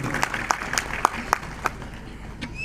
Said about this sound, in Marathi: टाळ्या वाजवा एकदा जोरदार त्यांच्यासाठी